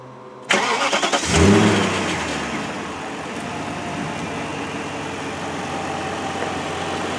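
A 2001 BMW 740i Sport engine cranks with a rapid stutter, catches and revs up, then settles into a steady, smooth idle close by.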